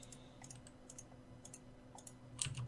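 Computer keyboard typing during a Minecraft gaming session, with a steady run of faint, quick clicks under a low background hum, plus a slightly louder cluster of keystrokes near the end.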